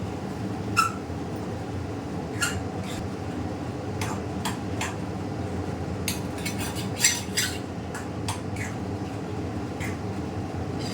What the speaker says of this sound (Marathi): असं एक दहा मिनटं मी बेसन व्यवस्थित परतवून घेते